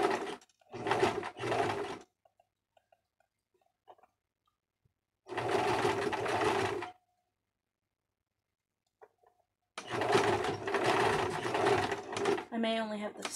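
A sewing machine stitches a costume baboon tail in three loud, sustained bursts separated by quiet pauses, and a short faint chirpy sound comes at the end.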